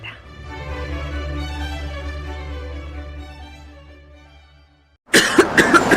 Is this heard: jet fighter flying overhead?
no